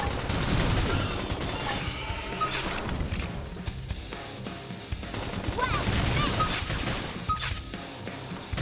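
Combat in Xenoblade Chronicles X: Definitive Edition, with a flame grenade and cover fire producing a dense, sustained barrage of gunfire bursts and crashes, loud and busy, with game voices and effects mixed in.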